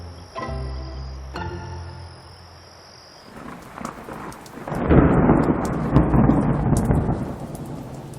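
A thunderstorm sound effect rolls in with rumbling thunder and a steady rush of heavy rain on a surface, loud and close, with faint crickets early on and no talk.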